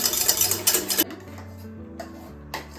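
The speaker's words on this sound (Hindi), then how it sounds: "अब हम कर्ड को एक बार मिक्स करेंगे" Curd being stirred in a bowl with a spoon, a busy run of close scraping clinks for about a second, then a few quieter isolated taps and rings.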